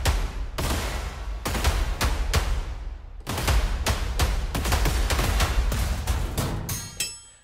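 A rapid series of heavy, booming percussive hits, loud and dense, broken by a short pause before the pounding resumes and fades out.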